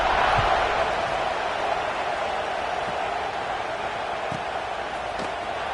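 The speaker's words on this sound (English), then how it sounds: "this crowd is buzzing after that last score" A football stadium crowd at a Gators game buzzes as a steady, distant roar with a few faint thumps.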